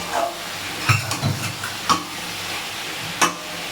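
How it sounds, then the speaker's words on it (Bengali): Meat sautés in hot oil over high heat in a pan, a faint sizzle broken by a few sharp clacks and scrapes of a utensil stirring against the pan. "ঠিক আছে, এবার সুন্দর করে কষিয়ে নেওয়া হবে। আঁচটা বাড়িয়ে দিয়েছি।"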